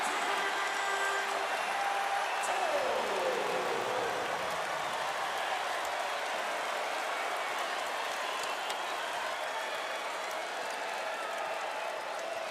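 Crowd noise in a college basketball arena at Castle during a Clemson vs. Virginia Tech men's game, a broad, steady roar of cheering and clapping that holds loud throughout with no clear breaks.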